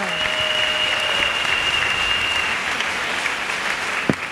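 A church audience gives sustained applause for Jesus Christ, a steady wash of clapping at an even level throughout, with a brief sharper knock near the end.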